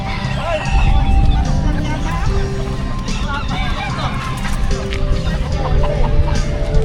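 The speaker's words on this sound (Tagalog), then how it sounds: "Dito naman yung lugar ng mga manok." Chickens clucking and roosters, including fighting cocks, calling amid a busy hubbub of people talking and moving about at a pet market in Bocaue, close and lively.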